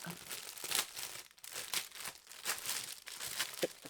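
Plastic packaging being unwrapped and crinkled by hand, with repeated close crackling bursts and rustles throughout, without talk.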